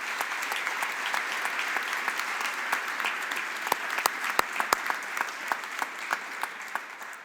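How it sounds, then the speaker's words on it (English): Audience at a high school awards ceremony gives the staff a round of applause, a steady wash of many hands clapping with a few sharper nearby claps standing out, gradually thinning toward the end. "Let's give the staff a round of applause,"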